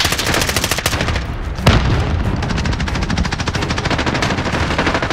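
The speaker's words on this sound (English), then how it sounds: "Taking fire. Small caliber here." Rapid small-caliber automatic gunfire in a Call of Duty Warzone match, steady bursts of close shots running throughout with one heavier thump partway through.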